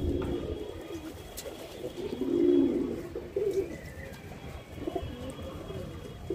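Domestic pigeons, including a large king pigeon, cooing in low, soft rolling phrases, close by, with a few brief chirps and faint background noise.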